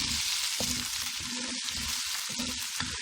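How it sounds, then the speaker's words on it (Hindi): Potatoes and whole chilies frying in a pot, a steady bright sizzle and crackle with low bubbling and stirring underneath. "और ये आलू डाल देंगे। सब्ज़ी मिर्चें हम साबुत डालेंगे।"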